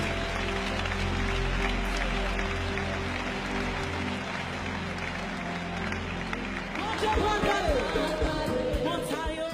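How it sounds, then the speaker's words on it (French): A congregation clapping their hands during a church worship service, a dense, steady wash of applause blended with music and voices that swells slightly near the end. "Put your hands together unto the King"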